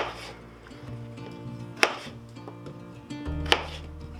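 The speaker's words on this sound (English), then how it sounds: "I'm going to cut those potato wedges in half again." Knife chopping large potato wedges in half on a cutting board, two sharp loud chops about two seconds apart over a faint background, no talking.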